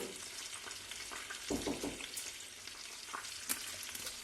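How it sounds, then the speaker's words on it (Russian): Potatoes fry in a pan with a steady, dense sizzle that lasts throughout, broken by a few scraping stirs and small clatters close by, and no talk over it. "У нас там картошечка, пока мы это все делали, она у нас там жарится."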